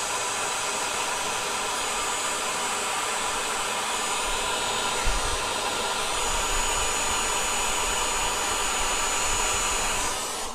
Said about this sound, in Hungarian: és a hajszárítóval szépen meghúzatom.